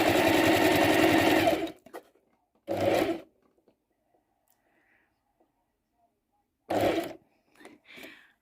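Sewing machine stitching the mitered corner of a patchwork quilt: one long steady run of stitching, then two short bursts, separated by near silence.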